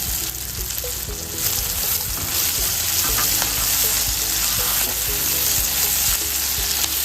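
Loud, continuous frying sizzle with frequent clinks and scrapes of a spatula stirring the white parts of spring onions in a wok.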